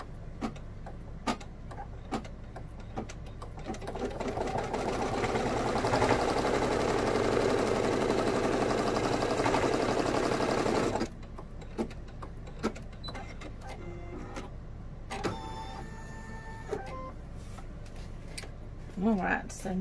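Embroidery machine stitching a line on vinyl and fabric for a zip pouch, giving a steady whirring, buzzing run for several seconds between quieter ticking and clicks, close and moderately loud.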